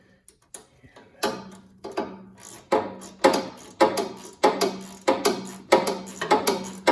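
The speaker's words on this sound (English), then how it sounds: "grab my trusty socket, put it on there, and we will tighten that back up." A socket wrench ratchets a shear bolt tight on an Ariens snowblower, giving a steady series of sharp clicking bursts up close, one loud pass after another with no talking.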